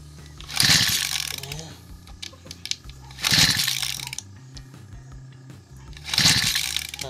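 A Robin grass cutter engine that won't start is pull-started three times, each a loud rasping rattle of the recoil cord spaced a few seconds apart, with no firing between pulls.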